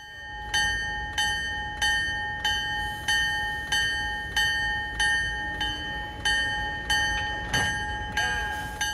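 A locomotive bell clangs in a steady, evenly spaced rhythm, about two strikes a second, loud and close, as a pair of passenger trains arrives at Tupper Lake on the railroad extended from Thendara in 2022.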